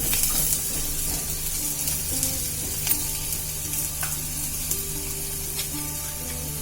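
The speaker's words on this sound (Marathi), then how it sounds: "आता कांदा थोडा शिजू देऊया" Chopped onion with cumin seeds and garlic frying in a pan for a wild monsoon greens dish, a steady close sizzle running throughout with a few light clinks of a utensil.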